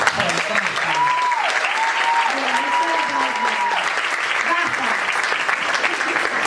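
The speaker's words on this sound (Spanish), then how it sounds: "Les voy a pedir un fuerte aplauso para mi familia personal," An audience at a panel talk on antiracist transfeminism claps loudly and continuously, with cheers and a voice rising over the sustained applause.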